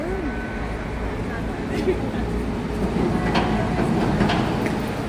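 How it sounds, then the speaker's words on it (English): Subway trains at Fulton Center in New York, with a steady low rumble of underground rail traffic and a few brief screeches and clanks, while voices murmur in the background. "So many trains bring you right here to the World Trade Center."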